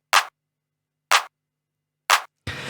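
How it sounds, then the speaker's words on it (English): Three short, snappy 707 drum machine clap hits land about a second apart with silence between, followed by the start of a fourth burst that is cut off. "So I have this clap 707,"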